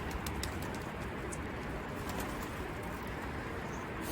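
Pigeons cooing softly and intermittently inside a multi-storey coop, under a constant background hiss, with no talk.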